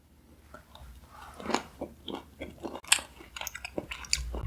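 Mantis shrimp full of roe being eaten up close, with soft wet bites and chewing in an irregular rhythm that grows a little louder toward the end, with no talking.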